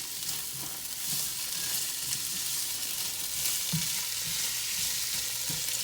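Bamboo shoots sizzling and being stirred in a soup pot, a steady hiss of frying with soft occasional scrapes and clinks of the spoon, close and moderate in volume, no talking.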